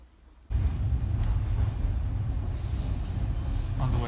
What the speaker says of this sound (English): That's 3 hours on the train.